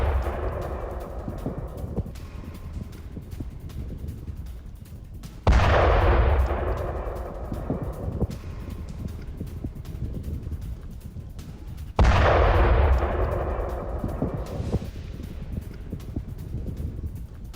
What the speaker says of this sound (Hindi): गाजा में इजरायल की भीषण बमबारी हो गई है